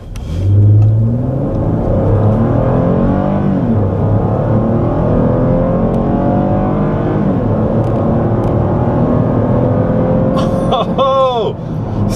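A 2013 Cadillac SRX with the sport package accelerating at full throttle, a loud sustained engine roar and rising whir heard from inside the cabin, ending with a brief chirp near the close.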